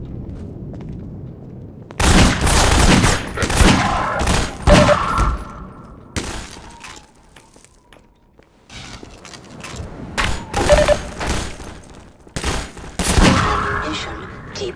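Half-Life 2: Lost Coast gameplay with loud bursts of rapid gunfire and booming impacts in clusters, separated by quieter gaps, with faint voices in places.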